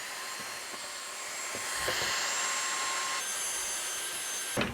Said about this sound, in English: Then we're going to vacuum out a little bit.